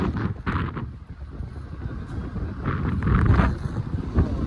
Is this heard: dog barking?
no